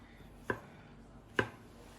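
A knife chops through mushrooms on a board while a cafe-style big breakfast is prepared, two distinct thuds about a second apart over a quiet background.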